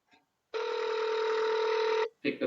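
A telephone rings once during a call, a steady bright tone lasting about a second and a half, followed by a short burst of voice or noise.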